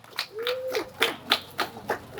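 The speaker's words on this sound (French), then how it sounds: "Bravo, ça s'applaudit s'il vous plaît" Sparse clapping at a school classroom-block inauguration ceremony, a handful of separate hand claps at an uneven rhythm, fairly close and moderate, with a short whistle-like tone near the start.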